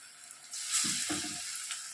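Prawn vadai dropped into hot oil in a kadai, a loud broad sizzle jumping up mid-clip and continuing steadily, with no talking.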